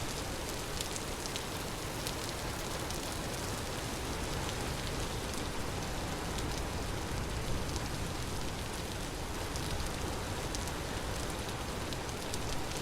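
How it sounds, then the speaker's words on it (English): Steady, dense rain falls without pause in the video game Vintage Story, an even broadband hiss with faint patter, continuous and unbroken, with no voices. "It is just raining constantly here."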